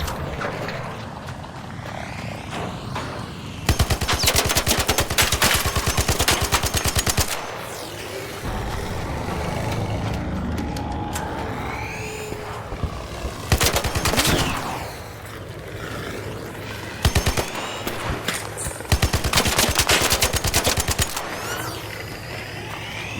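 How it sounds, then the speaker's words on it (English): Bursts of rapid automatic gunfire from the ARC Raiders video game, several loud sustained volleys separated by quieter stretches of game ambience and mechanical whirring. "Man, I'm using so much ammo on these Ark."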